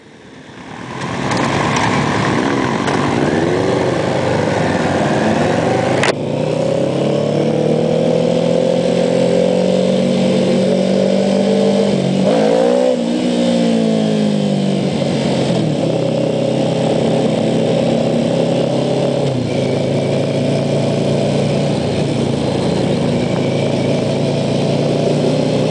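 Motorcycle and scooter engines drone loudly on a ride through traffic in Taiwan, a continuous close engine roar with rising and falling pitch as the bike accelerates, plus passing vehicles and wind rush.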